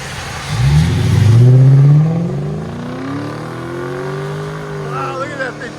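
A 2012 Lexus LS 460 with a 4.6L V8, Dynomax race bullets and a rear muffler delete revs hard, with a loud, close exhaust roar that climbs in pitch and then fades as the car pulls away.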